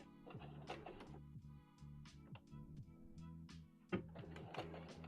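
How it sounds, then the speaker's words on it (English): A sewing machine runs in short stitching bursts, a quiet mechanical whir with rhythmic clicks and a brief clunk partway through. "we are back at the sewing machine, so let's put in a couple stitches here"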